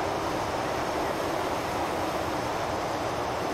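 Trains rumble along rails in the video game Transport Fever 2, a steady, dense roar of rolling wagons with no breaks, fairly loud and unaccompanied by speech.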